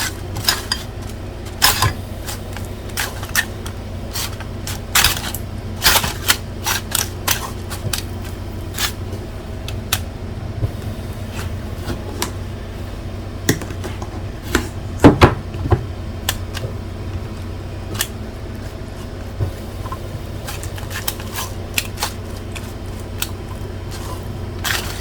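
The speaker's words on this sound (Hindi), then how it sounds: "इसको इस तरह से हिलाएं और अच्छी तरह से मिक्स करें।" A utensil stirs butter into an oven-baked jacket potato in a dish, giving a steady run of light clinks and scrapes against the dish, close and unhurried, with a faint background hum.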